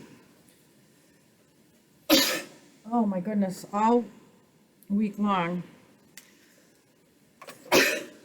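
Two sharp, explosive sneezes, one near the start and one at the end, with someone speaking briefly between them.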